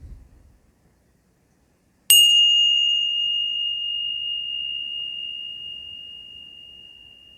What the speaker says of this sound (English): Wait for the last bell.